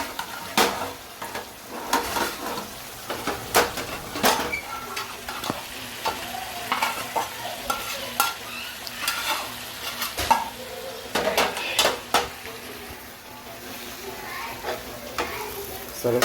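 Roasted paneer stirred into a simmering gravy in a home-kitchen pan, with a steady sizzle and repeated scraping and clinking of the spoon against the pan.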